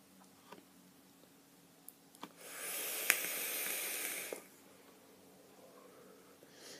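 A vaper exhales a cloud of strawberry-flavoured 50-50 e-liquid vapour in one steady, soft, breathy hiss lasting about two seconds, close up, with faint clicks before and after in an otherwise quiet room.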